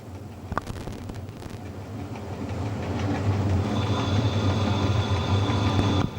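A passenger train on the Udine–Tarvisio line pulls into Ugovizza station, its engine rumble and wheel noise building from a lower hum into a louder, steady roar with a sustained whine, heard close from the cab.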